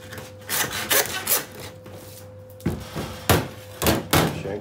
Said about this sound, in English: You can joint your shank with your saw